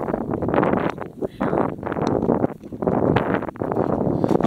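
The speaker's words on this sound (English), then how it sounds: "A little bit windy, so hopefully you guys can hear me okay." Gusty wind buffets the microphone in loud, rumbling surges that rise and fall, nearly continuous with brief lulls.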